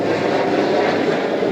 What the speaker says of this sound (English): A plane just flew right over us.